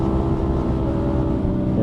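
A 125cc motorcycle fitted with an aftermarket exhaust drones steadily at a constant rev, a loud, close, buzzy engine note with a harmonic whine throughout.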